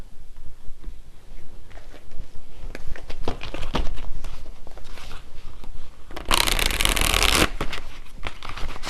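Tarot cards shuffled and drawn by hand, a run of soft riffling and slapping with one louder, dense burst of shuffling near the end.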